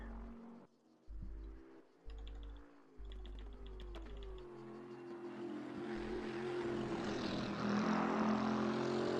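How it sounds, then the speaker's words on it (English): Bentley GT3 race car in a sim racing game climbing a hill at Laguna Seca, its engine a low, steady grumble that rises and swells in pitch and intensity as it accelerates, with a few clicking taps early on. "You can hear the Bentley grumble as it goes up the hill."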